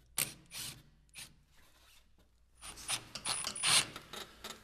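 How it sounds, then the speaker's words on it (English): Simple scissor jack cranked by hand while fitting a BDX/SSI Ascender-Pro running board, giving bursts of metallic ratcheting clicks, a few short strokes, a pause, then a longer louder run of cranking close by. "then what we use is a real simple jack, scissors jack"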